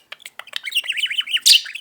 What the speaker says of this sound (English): You're making some of your bird sounds.